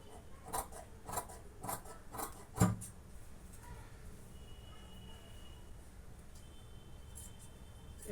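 Scissors snip through fabric for semi-patiala pants in a few quick, crisp cuts early on, one louder close snip near the middle, then quiet rustling with faint background hum.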